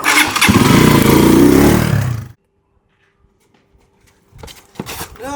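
A motorbike engine roars loudly and close for about two seconds, cuts off into near silence, then brief rough noise returns near the end.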